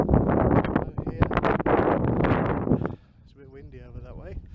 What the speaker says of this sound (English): It's a bit windy over that way.